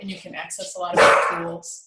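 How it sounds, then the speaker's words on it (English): A dog barks in a loud burst amid a person talking, resilient and vocal, the barks overlapping the speech through most of the short stretch. "And that was my dog, who's very resilient."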